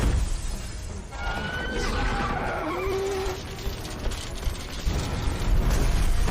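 Glass shatters as a car window is smashed in a film, a crunching break with creaking, scraping debris amid dense mechanical background noise.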